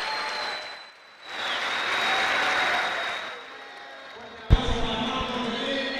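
A boxing crowd applauds El Chino, clapping and cheering in a large arena with a commentator talking over it. The applause swells, fades away, and is followed by a sharp thump.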